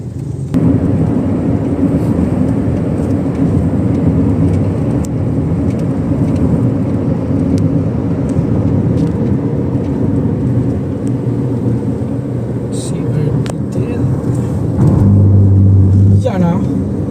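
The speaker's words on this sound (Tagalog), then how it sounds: "Traffic as usual." Road traffic around Los Baños, Laguna, heard as a steady low rumble of engines and tyres from inside a moving vehicle, constant and fairly loud, with a heavier swell near the end.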